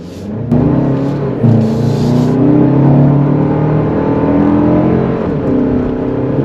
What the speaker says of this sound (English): Wow, is that torquey. This is all-wheel drive, and I think I broke the wheels loose just a little bit.